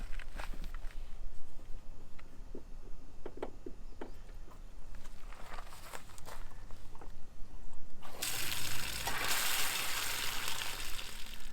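Water mixed with bleach drains from the fresh water tank and low point valves of a NuCamp 400 RV, with faint dripping and handling noises first, then a loud, steady gush of water rushing out.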